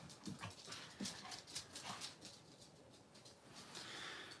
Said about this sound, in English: there's a dog at the door.